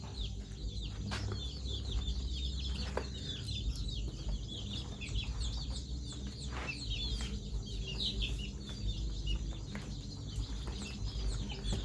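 A one-month-old chick clucks softly during eye treatment for a sore, swollen eye, with scattered faint chirps over steady low farmyard background noise.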